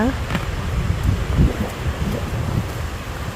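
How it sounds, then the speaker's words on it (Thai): Strong wind buffets a microphone outdoors in a forest while mushroom hunting, producing a constant loud low rumble with gusty bursts and a faint voice underneath. "ลมแรงขออภัยด้วยนะจ๊ะ"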